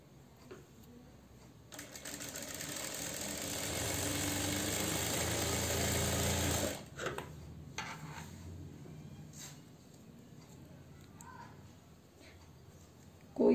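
A sewing machine stitching a salwar runs in one steady whirring burst of about five seconds, then stops, followed by soft handling noises of fabric and a click at the end.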